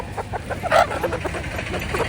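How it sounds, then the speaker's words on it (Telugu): A chicken clucks close by at a tribal village market in Maredumilli, with one louder squawk in the middle and busy market background throughout. "అది కోడి"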